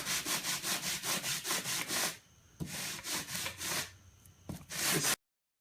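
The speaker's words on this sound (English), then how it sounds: "What I'm doing right now, basically I'm putting the finish sanding on this bottom of the flaps." Close, rhythmic rubbing strokes come from finish sanding the underside of wooden flaps, first quick and even, then slower with pauses, and no voices.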